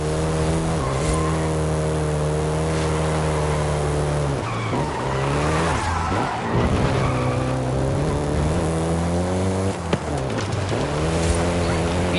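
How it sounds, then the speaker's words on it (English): Volkswagen Golf GTI driven in Forza Horizon 5, its engine droning and climbing through gears with tire squeal and skidding, loud and close throughout. "the Golf GTI you're driving right now"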